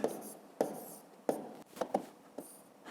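Pen writing multiplication numbers by hand on paper, close-up: a series of short scratchy strokes and taps at an irregular pace, with small pauses between figures.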